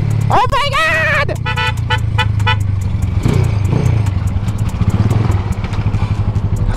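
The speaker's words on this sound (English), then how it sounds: "That's a freaking Camaro, bro." A Chevrolet Camaro rolls along a busy Jamaican street amid loud traffic rumble, with a quick burst of horn toots early on and people talking excitedly nearby.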